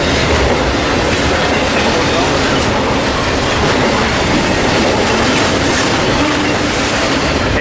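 An eastbound freight train rolls past at close range in Fullerton, a loud continuous roar of wheels and clattering cars with rhythmic clickety-clack and faint squeal, steady throughout.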